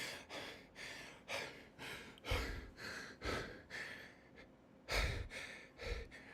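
Acted heavy breathing from a sweating person in Mjolnir Mark V armor, a close, steady rhythm of labored inhales and exhales, about nine breaths with short gasps.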